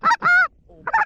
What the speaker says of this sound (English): Those are snow geese.